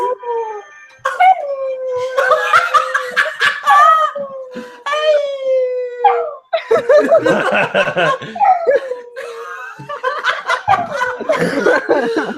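A Jack Russell terrier howls and sings in long, wavering, rising and falling tones, close and loud, over about twelve seconds, with people chuckling and talking softly around it.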